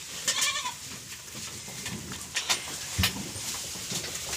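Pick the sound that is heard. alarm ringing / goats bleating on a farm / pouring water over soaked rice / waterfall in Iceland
goats bleating on a farm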